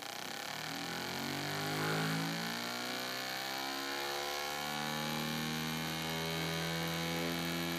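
A Rodin pulse motor generator runs with its drive coil powered, giving a steady mechanical whir with a strong electrical hum and layered tones, alone at even loudness throughout.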